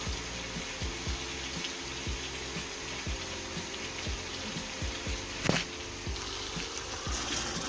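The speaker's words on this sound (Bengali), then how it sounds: "এখন আমি পানি দিয়ে দেবো।" Water is poured into a pot of homemade country chicken curry with potatoes and vegetable stalks, a steady faint trickle and gurgle with one brief sharper splash, no voices.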